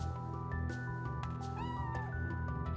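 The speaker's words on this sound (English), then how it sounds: "The only one down here that's normal is the cat." A cat meows repeatedly in the video game Chrono Cross, short tonal calls over soft in-game background music, with no talking.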